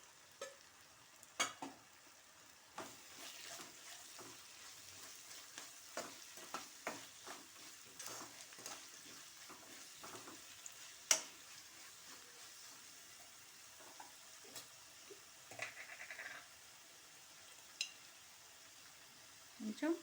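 Ginger garlic paste, curry leaves and green chillies fry in a pan, giving a faint, low sizzle broken by irregular clinks and scrapes of stirring. A few louder clatters stand out over a quiet kitchen background.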